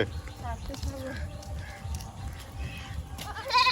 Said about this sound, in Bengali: আয়ুষ ছাগল নিয়ে কোথায় চলেছ